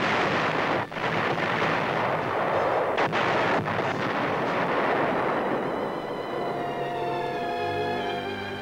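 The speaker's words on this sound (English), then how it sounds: "tanks are demolished" Tanks are blown up during the 1945 disarmament of Japan in an old newsreel, heavy muffled blasts and a continuous low rumble that fades slightly toward the end.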